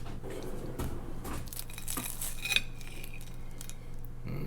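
A knife slices through crab croquettes on a plate, giving a few scraping, clinking strokes and one sharp tap, close and fairly quiet, with no talk.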